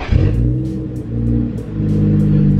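A BMW 335i engine turns over and fires up, a loud close rumbling start that settles into a steady idle with a slight rise in revs.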